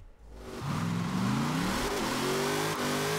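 A car engine bouncing off the rev limiter in Forza Horizon 4, a loud, steady, high-revving drone with rising pitch sweeps and small stutters, close and continuous.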